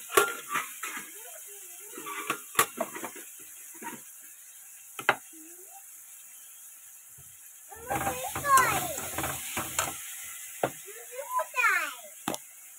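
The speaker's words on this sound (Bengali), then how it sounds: "একটু গ্রেট করে রাখা আদা, বেশ খানিকটা কুচনো লঙ্কা, এগুলো একটু লাল করে ভেজে নেব" Grated ginger and chopped chillies, added with onion, fry in a pan, giving soft sizzling and stirring scrapes in uneven bursts under a person talking.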